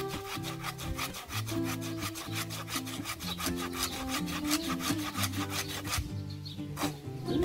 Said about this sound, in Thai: เลื่อยใส่เข่าอย่างนี้เลยเหรอ